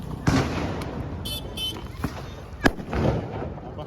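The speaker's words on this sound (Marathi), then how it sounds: "फायनली फटाके फोडून झालेत सर्वांचे." Diwali firecrackers and rockets go off outdoors in a few scattered sharp bangs and pops over faint background voices, with brief whistling bursts between the blasts.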